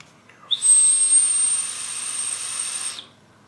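A thin, high-pitched whistle of air drawn through a Nobunaga Mini RDA vape atomizer with airflow open, one steady pull lasting about two and a half seconds before stopping.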